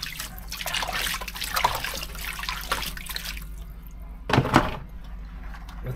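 Water sloshing and swirling in a gold pan during a winter prospecting session at an Alaskan mineshaft, a steady wet swishing with a louder splash near the end.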